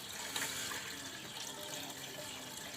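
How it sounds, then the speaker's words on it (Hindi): Tap water pours steadily into a cooking pot in a village kitchen, a continuous soft hiss and splash that is fairly faint and runs without a break. "पानी डालते हैं देचके में"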